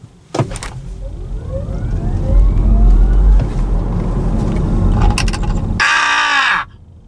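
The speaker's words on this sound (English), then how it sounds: "whenever it moves or whenever you accelerate, there's this sound of a jet engine or something" A 2023 MG 4 electric car accelerating from a standstill gives off a rising, jet-engine-like whine over steady road rumble, with a brief burst of louder noise near the end.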